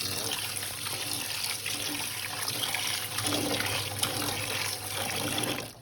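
Salted shrimp are washed in a basin of water, giving a steady, close sound of splashing and running water that continues for the whole stretch.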